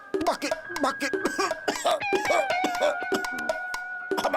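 A man coughs hard several times during a Bhojpuri film scene while talking continues around the coughs and a music bed plays underneath.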